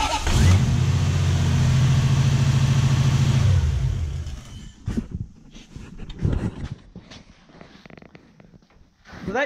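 A Toyota 1UZ-FE V8 being checked for ignition timing starts and runs with a loud, steady engine drone for about four seconds, then cuts to quieter, uneven knocks and mechanical clatter.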